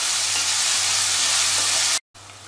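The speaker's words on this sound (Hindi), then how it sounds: "अब हम इसमें प्याज को फ्राई करेंगे गोल्डन ब्राउन।" Onions fry in hot oil until golden brown for a Hyderabadi mutton do pyaza curry, giving a loud, steady sizzle that cuts off suddenly near the end.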